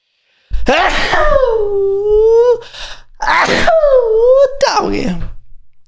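A loud, drawn-out vocal buildup with wavering, moaning tones, then a sharp burst and a second strained, rising cry before an abrupt expulsive sneeze close to the mic.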